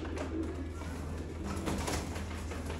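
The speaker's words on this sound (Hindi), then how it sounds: "ये चोरी साहब वाले टेडी कबूतरों में से ये पीस है" Teddy pigeons cooing close by, a steady low throaty coo repeating over a continuous background hum, with no talking.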